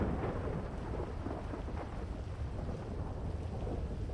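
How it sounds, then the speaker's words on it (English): Thunder rumbles through a stormy game scene as a broad, continuous low roll mixed with rain-like hiss, with no talk over it. "that thunder sounds lovely"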